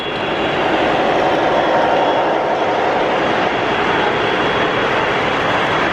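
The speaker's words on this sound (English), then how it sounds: "We're going to watch this train again" O scale model train, a Harley-Davidson themed set carrying motorcycles, running steadily around a layout at a model train fair, a continuous loud rumbling roar with busy crowd-hall ambience throughout.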